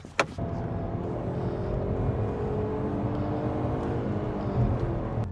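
A 2000 Alfa Romeo 156 with a 155-horsepower engine driving on the road, a steady close engine drone and road rumble after a brief knock, with no talking.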